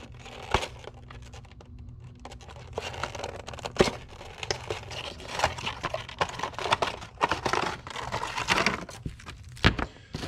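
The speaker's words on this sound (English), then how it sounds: "So let me get it out. I don't want to just rip this box totally to shreds." A cardboard product box for an ozone device is opened and its contents unpacked. The sounds are close, irregular crinkling, tearing and rustling of packaging, with sharp clicks and taps scattered throughout and no talking.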